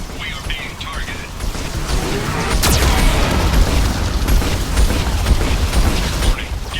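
A Geth cannon fires in the video game Mass Effect 2, a loud boom with a sharp crack near the middle. The blast sits over a dense, rumbling background of game noise.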